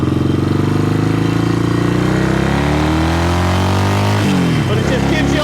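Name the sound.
1972 Yamaha XS2 650cc motorcycle engine idling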